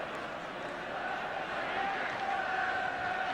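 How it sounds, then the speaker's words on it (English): A football crowd at a Spurs v Southampton FA Cup third-round match applauds a substitution, producing a steady, broad wash of clapping and murmur from the stands, continuous and moderately loud throughout. "the applause in the background is for the arrival of Gary Mabbutt"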